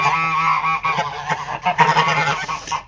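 Several geese honk loudly and close by, with overlapping nasal calls in quick, irregular bursts.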